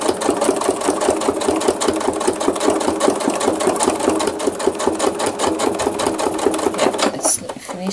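Sewing machine stitching thread art, a fast steady rhythmic clatter of needle strokes close up and loud, stopping abruptly near the end with a brief rattle.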